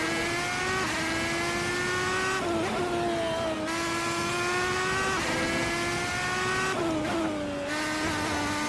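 Red Bull X2010 race car in a video game, its high engine whine rising steadily through gears with quick dips at each shift, loud and constant for the whole stretch.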